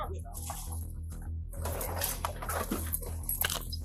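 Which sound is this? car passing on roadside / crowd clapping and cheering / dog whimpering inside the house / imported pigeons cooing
dog whimpering inside the house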